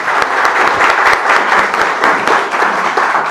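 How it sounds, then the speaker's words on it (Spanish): An audience at a panel applauds, steady dense clapping from many hands filling the room for a few seconds with no voices on top. "Un aplauso para eso."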